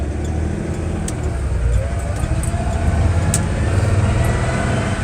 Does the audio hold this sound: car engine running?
yes